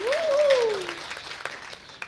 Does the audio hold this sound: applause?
yes